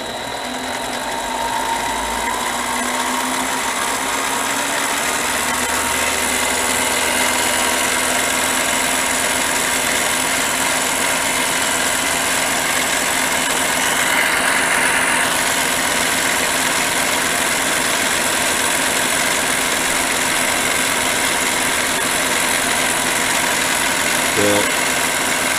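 Mini lathe running at about 1200 RPM, a loud, continuous motor whine and mechanical drone that holds steady and close throughout, with faint rattles and no clear speech over it.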